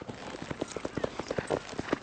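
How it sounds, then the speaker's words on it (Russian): Horse hooves clip-clop in a quick, even rhythm at moderate distance, a steady run of sharp knocking beats under faint background noise. "вы все время направляете лошадь на мою дорожку"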